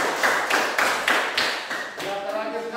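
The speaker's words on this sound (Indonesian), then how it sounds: "kita tepuk tangan" A classroom of school students gives a short round of applause after a group presentation, sparse claps tapping out in uneven bursts before a voice begins speaking.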